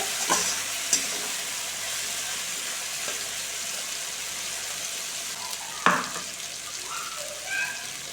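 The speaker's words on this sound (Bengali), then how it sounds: "ভালো করে নেড়ে নিচ্ছি যতক্ষণ না মশলাটা কষা হয় ততক্ষণ নাড়তে হবে" Spice masala for a vegetarian fig curry fries in a pan under a steady low sizzle, with intermittent scraping and clinking of a spoon stirring it close by.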